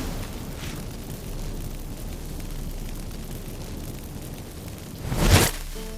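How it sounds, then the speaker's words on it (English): A magic fireworks blast from The Witcher 3 erupts as one loud, short burst near the end, after several seconds of quiet game ambience. "Get ready for some magic fireworks."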